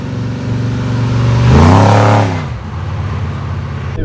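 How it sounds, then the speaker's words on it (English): Inside the cab of a fully built Dodge pickup truck, a straight big block engine with a big exhaust revs up loudly and then falls back to a deep, rumbling idle, heard close. "It's got a straight big block and a big exhaust, so it's rather loud in the cab."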